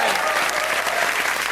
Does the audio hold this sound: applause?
yes